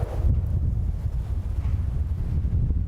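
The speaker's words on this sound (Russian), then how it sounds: "Ураганный ветер сносит забор на Шамиля Усманова" Strong hurricane-force wind buffets the microphone in a steady low roar, tearing at a fence on a city street in Tatarstan.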